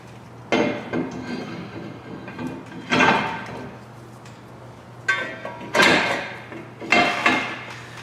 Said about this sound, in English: The next thing we can do is reinstall the rotor here